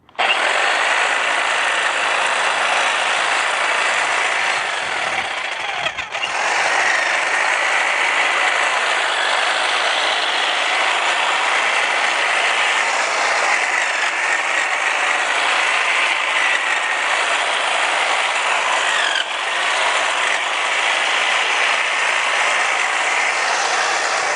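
A Greenworks 22-inch hedge trimmer runs steadily and close, its loud buzzing whir of reciprocating blades holding constant with only slight dips in pitch throughout.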